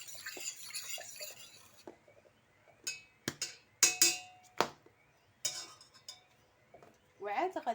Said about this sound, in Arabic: غادي نمزج العناصر مزيان مزيان